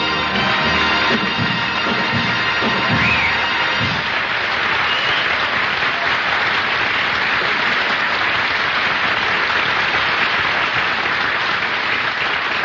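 A studio audience on a radio comedy show bursts into loud, sustained applause after a song, with the music's final notes fading under the clapping at the start before dense crowd clapping fills the rest.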